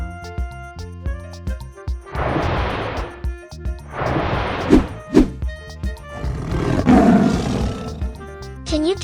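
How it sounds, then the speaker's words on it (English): Tiger roaring in a children's animal sound guessing game: three loud, rough roars in a row, each lasting about a second, heard close over background music. "This voice is tiger."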